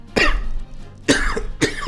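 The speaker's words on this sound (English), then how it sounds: "Coughing all of a sudden." Three sharp, separate coughs from one person, close and loud, spaced out with short quiet gaps between them, alone with no talking.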